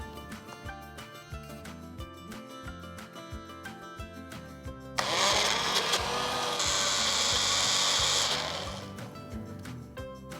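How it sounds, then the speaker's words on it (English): A mixer grinder, or mixie jar, grinds rabri into a fine paste for a baked cheesecake, a steady loud whir that starts midway and runs alone over background music before it winds down. "for my cheesecake I'm going to grind this into a fine paste"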